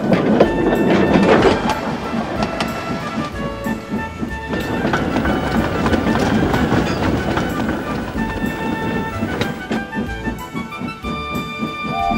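Steam engine Duck hauls coaches along the main line, wheels rattling with steady clickety-clack over rail joints, loud and continuous with faint tonal squeals.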